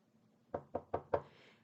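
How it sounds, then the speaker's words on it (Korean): Four evenly spaced knocks land on a bedroom door as a quiet audiobook sound effect, each one a crisp wooden thud with nothing else around them. "조심스레 침대 머리 쪽의 방문을 두드리는 소리가 났다"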